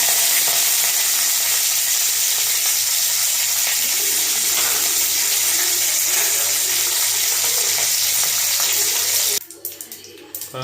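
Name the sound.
thuthuvalai leaves frying in oil with mustard seeds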